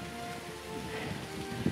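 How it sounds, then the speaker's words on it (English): Rain falls steadily around a roofless ruined lead mine building in the Peak District, a soft continuous hiss of drops on stone and ground, close and even, with one brief louder knock near the end. "We're just hiding out a bit from the rain right now."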